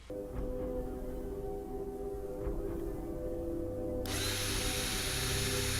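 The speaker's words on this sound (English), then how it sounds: "drills a juicy hole into his leg" A power drill in a film scene whirs steadily as it bores into a leg, with a sustained motor tone that suddenly grows brighter and harsher partway through.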